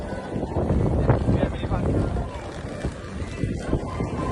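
Strong gusting wind buffets the microphone at a cold outdoor Christmas market in Prague, a steady loud low roar with crowd murmur and voices mixed beneath it.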